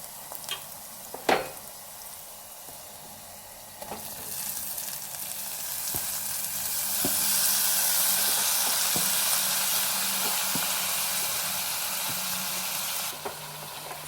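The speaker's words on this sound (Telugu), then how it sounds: "ఇప్పుడైతే ఇంకా మనం టమాటాలు వేసుకుందాం" Tomatoes dropped into hot oil with fried ginger-garlic paste for a tomato curry: a few clanks and stirs, then a swelling, continuous close sizzle and hiss that holds steady before cutting down near the end, with no talking.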